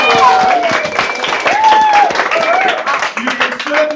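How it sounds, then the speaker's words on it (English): A crowd applauds and cheers for the bailiff during a mock courtroom gathering at a farm, with clapping continuing steadily under prominent overlapping voices and whoops. "Give your bailiff a round of applause for that."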